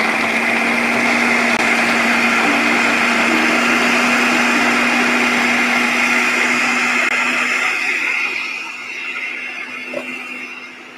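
A food processor blends almonds, dates and raisins into a paste, a loud steady whirring drone that holds for most of the clip, then eases and drops lower near the end as the motor winds down.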